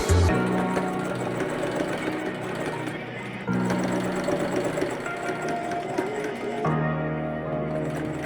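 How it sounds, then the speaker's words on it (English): A sewing machine runs steadily while top stitching a seam on a long-sleeve shirt, a close, loud mechanical whir that pauses briefly twice and then resumes. "we can kind of top stitch along this line right here"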